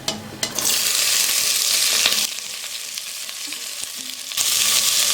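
Onions drop into hot oil already fried with cinnamon, cloves, cardamom and star anise for a chicken biryani, giving a loud bright sizzle that eases into a steadier hiss, then surges again near the end.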